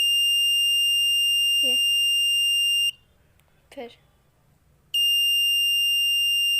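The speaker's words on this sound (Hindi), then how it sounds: "बजर बज रहा है" Buzzer of a sunlight-based light-sensor alarm built with a Cretile robotics kit sounds as a loud, continuous high-pitched beep that cuts out midway, leaving a gap with brief speech, then resumes.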